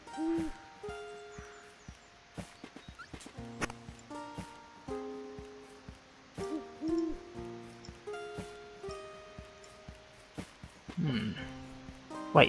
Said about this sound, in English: Alright, I'm gonna wake the owl up